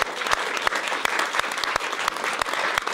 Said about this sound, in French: Je demande aussi au public ici présent d'applaudir Ignace